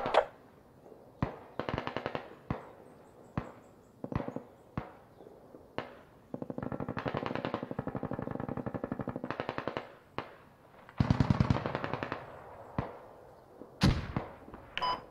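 Machine gun fire in a Narva AAS video game match: repeated short and long automatic bursts, sharp and close, separated by brief pauses, with a heavier sustained stretch midway.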